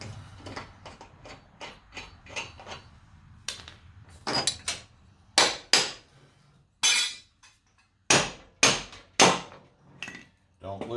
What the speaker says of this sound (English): Get your big old hammer, whack, screw your nut back out.